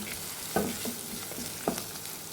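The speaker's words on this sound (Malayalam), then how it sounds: "ഇനി നമുക്കിതിങ്ങനെ ഫ്രൈ ചെയ്തെടുക്കാം" Food sautéed in a pan with turmeric powder gives a continuous sizzle, broken by a few sharp stirring scrapes of a spoon against the pan, close up with no voices.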